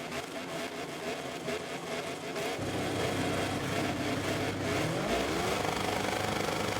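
Motorcycle engine revving up at a race start in MotoGP 24, a loud sustained roar that rises in pitch near the end as the bike pulls away, with another engine droning underneath.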